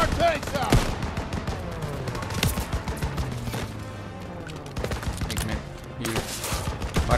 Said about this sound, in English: There's the AA gun.